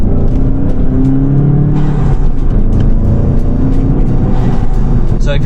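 A Volkswagen GTI fitted with an Integrated Engineering intake revs loudly and steadily close by, the engine note rising and falling as it runs through the gears, with a voice speaking over it.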